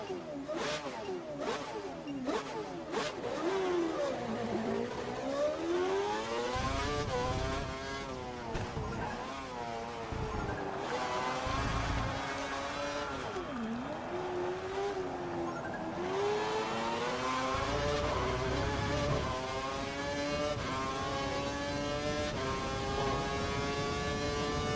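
A simulated F1 racing car engine in the game F1 2012 revs up and down through gear changes, whining steadily with rising and falling pitch, loud and continuous throughout a young driver test run.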